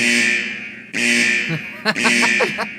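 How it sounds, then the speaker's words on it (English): Fire alarm buzzer sound effect blaring in loud, harsh tones, one long blast followed by a broken run of short pulses. "It's a fire alarm."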